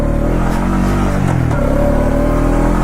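A 2020 Honda Rancher 4x4 ATV, shifted into four-wheel drive and put in gear, pulls away with a steady, loud mid-pitched engine drone that rises slightly as it accelerates.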